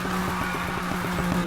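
A BMW M4 GTS drifts in Need for Speed Heat, its engine holding a steady loud drone with tire squeal running under it for the whole stretch, with no voices.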